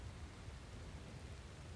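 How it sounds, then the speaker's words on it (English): Steady rain falling outdoors, a soft, continuous wash of noise with no breaks, faint and even throughout. "especially when it rains like this"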